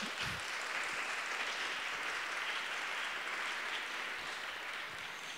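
A conference audience applauds to thank the organizers, sustained even clapping from many hands in a lecture hall that stays at a moderate, steady level the whole time with no talking.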